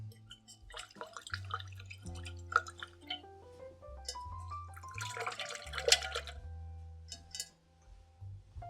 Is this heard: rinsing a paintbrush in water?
yes